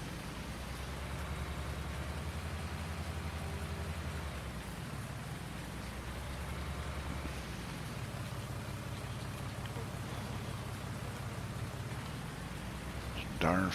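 Steady rain pours across a Farming Simulator farm scene, a dense even hiss with low engine-like hum underneath and a short louder burst at the end.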